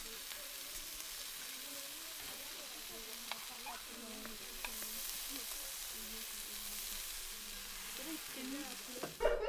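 Meat searing in a pan on a farm, a soft continuous sizzle with small crackles, rising slightly in the middle, heard at a distance under faint talk.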